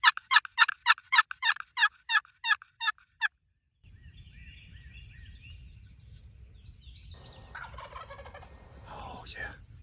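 A hunter's turkey call sounds a quick run of about ten sharp yelps, then stops. A wild turkey on public land follows with faint, rattling gobbles over low wind noise during a youth hunt.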